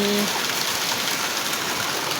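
Heavy rain pours steadily in a dense, loud hiss of drops, unbroken throughout.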